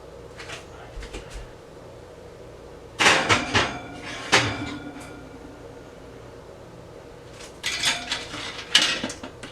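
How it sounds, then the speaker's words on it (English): Pans go into a home kitchen oven, with the oven door and metal pans clattering in a few close, sharp bursts of knocks and scrapes over a quiet room. "Now I'm going to throw it in the oven"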